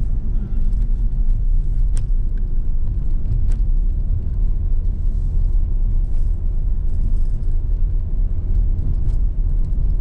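Bus engine drones steadily while driving uphill around Baguio City, a continuous low rumble from inside the vehicle with occasional faint clicks and knocks.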